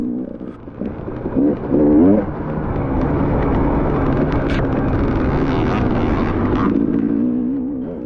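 A dirt bike rides past during a hare scramble race in the woods, its engine rising to a loud close pass and then holding a rough revving drone mixed with wind buffeting on the microphone.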